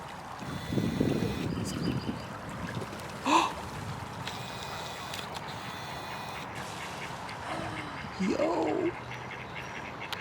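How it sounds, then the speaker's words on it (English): Ducks quack in a few short bursts near water on a nature walk in Toronto, set against a faint outdoor wash of wind, with a brief spoken word. "right now we're duck spotting, watching the ducks in their natural habitat."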